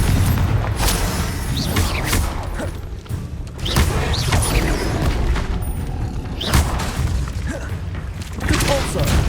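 Confringo fire spells burst again and again in Hogwarts Legacy combat, a steady barrage of booming, crashing impacts and thuds with frequent sharp peaks, mixed with a voice calling out spell names.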